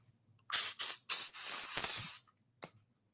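Mosquito repellent sprayed indoors from an aerosol can in several close, loud hissing bursts, three longer ones followed by a short faint puff, with no talking.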